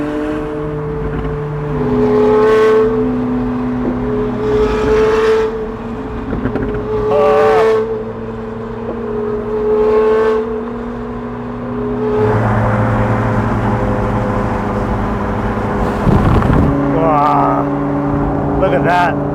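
An SV hypercar engine revs and drives past, rising and falling engine tones repeating over the stretch, loud and fairly close, with people talking over it.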